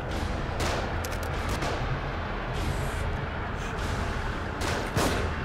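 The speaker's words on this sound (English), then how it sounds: "They're shooting from above." Enemies fire down from above in The Evil Within, a dense, continuous barrage of overlapping gunshots with sharper cracks standing out from the steady roar of fire.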